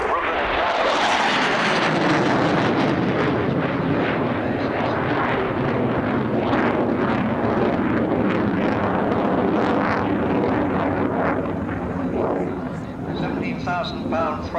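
A jet with Turbo-Union RB199 engines roars past at a 1989 airshow at RAF Scampton, loud and sustained as it sweeps by, while an announcer talks over it.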